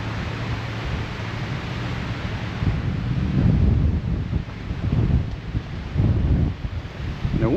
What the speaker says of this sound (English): The wind is pretty noticeable here.